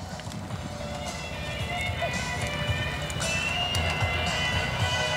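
Hooves of a rodeo horse pounding through a barrel race arena, a steady rapid run under continuous crowd noise and an announcer's voice.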